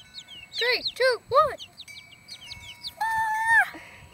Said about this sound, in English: We got runaway chicken.